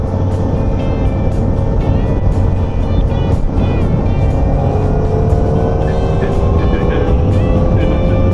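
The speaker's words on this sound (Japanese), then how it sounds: "郵便局の車をお抜かします" Motorcycle on a touring ride overtaking a post office car, a loud, steady engine drone whose pitch climbs as it accelerates, with rushing wind noise throughout.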